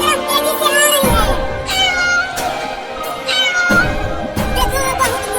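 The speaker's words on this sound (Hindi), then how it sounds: "लगता है वो इस बिल्ली के बच्चे की माँ है। वो हमारी तरफ तेजी से आ रही है।" An angry mother cat in a cartoon lets out a series of loud, drawn-out meows in quick succession, each cry rising and wavering, close and prominent.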